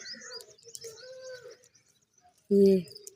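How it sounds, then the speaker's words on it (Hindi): Small birds chirp and twitter near a house under soft talk, ending with a louder, close cooing call. "ये इधर चिड़ियाँ वगैरह खेल रही हैं"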